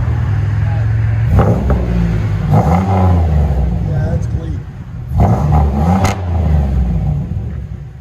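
A 2000 Chevy Monte Carlo SS engine with a Magnaflow exhaust revs up loudly several times, reaching 107 decibels, a deep throaty roar up close, while people talk over it.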